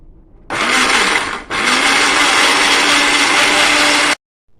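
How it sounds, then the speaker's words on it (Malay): A blender whirs loudly as it purees dal and potatoes for tortilla soup, running steadily, briefly cutting out after about a second, then resuming for a few more seconds before stopping abruptly. "kita blend dia sampai dia halus lah."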